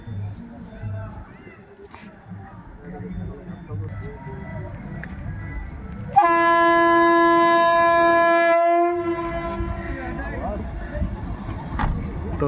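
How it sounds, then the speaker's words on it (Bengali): India's first Vande Bharat sleeper express, running from Kamakhya to Howrah, rumbles loudly past a station, sounding a long steady horn blast midway over continuous wheel and carriage noise. "তো চলে গেল বন্দে ভারত এক্সপ্রেস"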